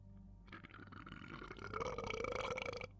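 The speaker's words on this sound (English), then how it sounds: "That was a disgusting foamy burp." One long, foamy human burp, close and fairly loud, rising in pitch and running almost three seconds, with no talk around it.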